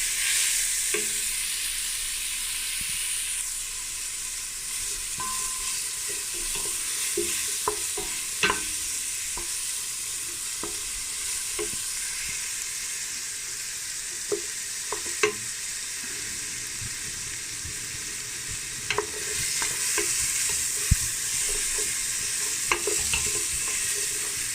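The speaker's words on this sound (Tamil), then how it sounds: "இதுக்குள்ளே நான் இதை போட்டுட்டு இந்த எண்ணெயில் வதக்கும்." Ingredients for a Thai tom yum fish soup sizzle and sauté in hot oil, a steady bright hiss broken by scattered clicks and scrapes of stirring, close and continuous with no talk.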